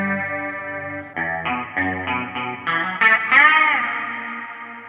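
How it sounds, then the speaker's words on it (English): Electric guitar strums and picked notes with a shimmering, swirling chorus effect, played alone with a wide, watery tone that rings out at the end. "chorus just makes everything sound sexy"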